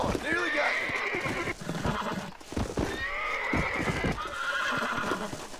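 In Red Dead Redemption, a horse neighs and whinnies repeatedly over the clatter of hooves, with a person talking intermittently in between.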